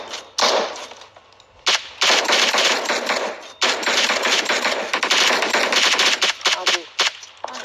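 Rapid automatic gunfire in a shooting video game, loud bursts of repeated shots with brief pauses between them.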